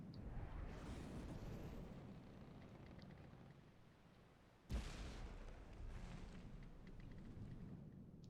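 Torpedoes explode against a cruise ship in Minecraft, sinking it. A low, continuous rumble rolls on with one sudden loud burst midway, and no voices are heard.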